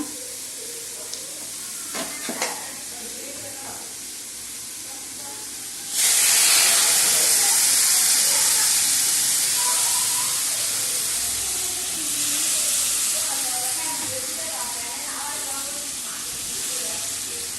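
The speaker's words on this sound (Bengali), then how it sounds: "ফোড়ন দিয়ে দিলাম। রাঁধুনি হয়ে গেছে, এবার মাছের ঝোলটা দিয়ে দেবো।" Spiced tempering of radhuni poured into a thin Bengali fish curry bursts into a loud, steady sizzle that swells abruptly and hisses on, with faint stirring beneath and occasional speech.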